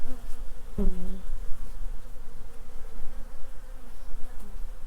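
Loud, close buzzing of honey bees at a starving hive, a steady insect drone with a sharp burst of movement near the start.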